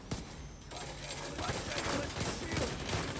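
Rapid bursts of video game gunfire with bullets ricocheting off a shield, a dense, continuous stream of shots and metallic pings at steady volume.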